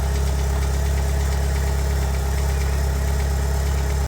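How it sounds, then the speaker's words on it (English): A Mitsubishi Evo 6 with a 4G63 engine idles steadily with loud hydraulic lifters, a constant low drone with a fast, fine ticking rhythm over it. The sound is close and even for the whole clip, and no one speaks. "my Mitsubishi Evo 6 has got really loud lifters. I'll insert a clip of the sound that the engine was making."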